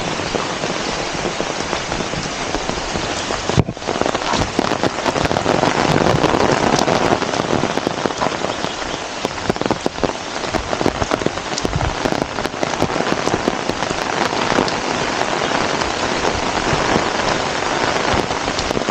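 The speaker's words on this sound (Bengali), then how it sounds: "বৃষ্টি তো থামছেই না" Heavy rain pours onto a street, a dense, steady hiss of drops with scattered sharper splashes and patters, loud and unbroken throughout with no talking.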